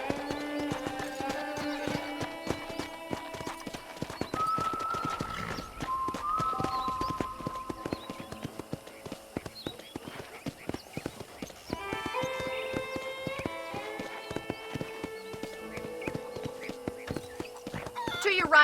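Horse hooves clip-clop in a steady, fairly quiet rhythm through the Red Dead Redemption game, with ambient ranch sounds, music and occasional voices around them.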